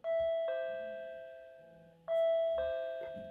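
Winees smart WiFi doorbell's extra gong chime sounding two clear ding-dong tones, each decaying slowly, close and loud in a quiet room.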